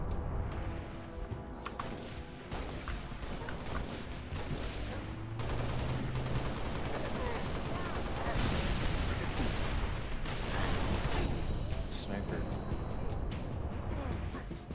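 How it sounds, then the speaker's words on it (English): Dense, continuous gunfire and explosions from the Halo: Reach video game on Legendary difficulty, rapid bursts layered with heavy blasts, loud and sustained throughout with occasional voices underneath. "as I'm trying to shoot enemies. I'm under fire!"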